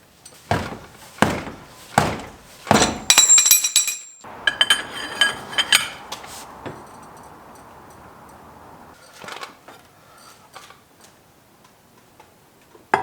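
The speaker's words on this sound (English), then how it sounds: "I've got my 36mm socket and my breaker bar. Let's see if we can get this thing loose." Breaker bar and 36mm socket cracking loose a tight wheel hub nut on a Chevy Suburban: several loud, sharp metallic clicks and clanks in quick succession, then a ratcheting burst and a quieter stretch with scattered knocks.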